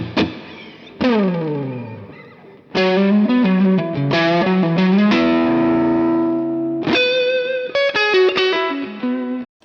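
A Fender Telecaster electric guitar on the neck pickup plays close and clear, with strummed chords and ringing single notes that sustain and decay, slightly distorted with effects and reverb, and no voices.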